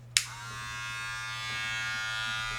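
StyleCraft Rebel hair clipper switched on with a click, then its motor runs in a steady, powerful buzzing hum, picked up from a slight distance.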